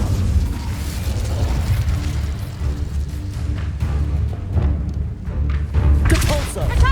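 An Incendio fire spell blast erupts in Hogwarts Legacy amid loud, continuous combat, with booming thumps and bursts layered over a rumbling low end and shouted spell voices.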